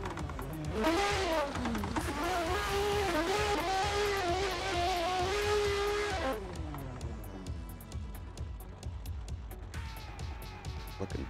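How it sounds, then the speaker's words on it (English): Toyota Mark IV Supra on a drift run at Interlagos, a loud engine howling and revving with tires squealing for about six seconds, then fading off into the distance while another engine hums faintly. "super solid run coming from this Mark IV Supra"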